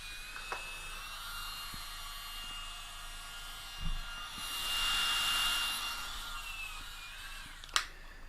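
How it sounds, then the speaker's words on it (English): A small pump running on three AAA batteries inflates a Thermarest Neo Air sleeping mat, giving a steady, close, high-pitched whine that swells in the middle and stops with a click at the end. "The Neo Air comes with this little pump."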